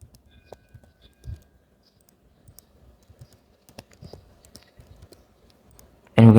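Light, scattered keystrokes on a computer keyboard as an email and password are entered, quiet and irregular, ending in a sudden loud burst.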